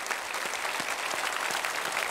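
A church congregation claps together during a founding-anniversary thanksgiving service. The applause is dense and continuous, with no voice over it.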